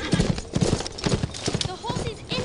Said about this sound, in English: The horse is injured, Father.